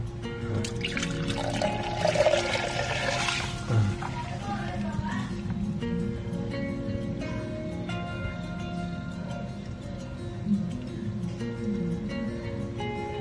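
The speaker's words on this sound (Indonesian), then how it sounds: "selanjutnya kita tuang ke saringan" Chili seeds and water poured into a strainer, a steady splashing, trickling flow that runs continuously close by, with some dripping and faint background noise throughout.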